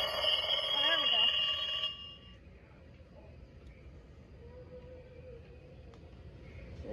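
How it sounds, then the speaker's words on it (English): A Halloween decoration telephone in a Target store rings loudly in a harsh electronic trill for about two seconds, then stops, leaving quiet store background. "So here's this phone I couldn't get working last time."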